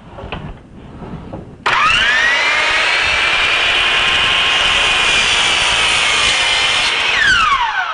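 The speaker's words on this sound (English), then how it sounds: "So I'm going to bring the saw down to make sure I got about what I need." A power saw winds up with a sharp rising whine and cuts through a wooden board held against a fence, a loud steady high-pitched scream for about five seconds before spinning down.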